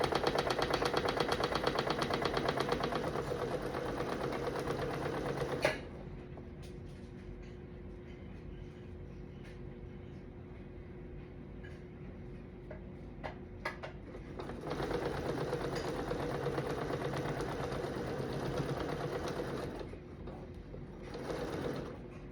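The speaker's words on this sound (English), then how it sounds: "I just started sewing" Sewing machine stitching a quilt, a loud fast mechanical whir that runs for several seconds, stops with small clicks and handling noises, then starts again in a second steady run.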